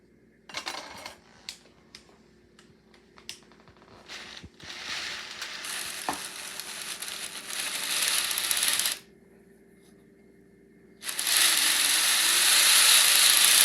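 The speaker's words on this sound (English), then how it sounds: "start knitting around" A Handy Hat Maker knitting machine is cranked around while it knits a hat. First come a few scattered clicks and clacks, then a sustained ratcheting, whirring run that stops briefly and starts again, loud and close.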